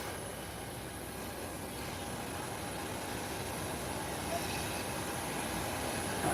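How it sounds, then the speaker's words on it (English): A United Airlines airliner taxis toward the runway before takeoff, a steady engine whine and broad rumbling drone holding at a constant moderate level with no voices over it. "United Airlines is taking up position at the taxiway, ready to hit the runway"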